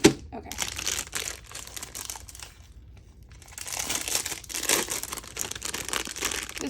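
Plastic packaging around Ranger Distress craft paints crinkles and crushes in bursts close by, pausing briefly in the middle before resuming, with quiet talk now and then.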